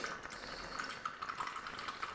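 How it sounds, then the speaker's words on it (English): Water drawn from a backyard well runs and splashes faintly in a close, continuous trickle with small irregular sloshes, quiet and alone. "this is how I draw water"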